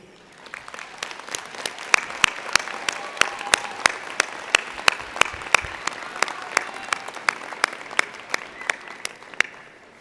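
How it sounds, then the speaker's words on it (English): Convocation audience applauding graduates in a large hall, a steady wash of clapping with distinct sharp individual claps standing out at regular intervals over about ten seconds. "give them a round of applause and say thank you"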